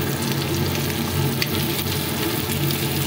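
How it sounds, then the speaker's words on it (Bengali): Red lentils and bottle gourd greens fry in oil in a pan, giving a dense, continuous sizzle with light crackling and the occasional stir, close and fairly loud throughout. "এবার উপর দিয়ে একটু তেল দিয়ে দিব এবং ভালো করে ভেজে নিব"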